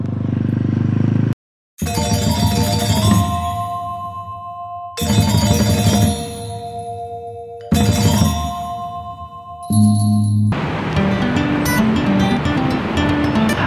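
Ocean surf at Kuta Beach, Bali, a dense roaring wash that swells and drops across several stretches, cut by abrupt breaks, with chiming tones and other sounds mixed in and no talk.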